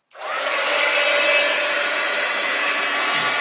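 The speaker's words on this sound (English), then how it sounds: "Let's dry the border here." A hair dryer switches on abruptly and blows a steady, loud whooshing hiss over the border of an art journal page, held close with no speech.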